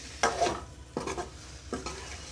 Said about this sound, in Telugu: ఇప్పుడు బటర్ బాగా కాగిపోయింది. పన్నీర్ వేద్దాం.